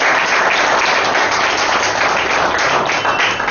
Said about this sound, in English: Chetana deserves big round of applause.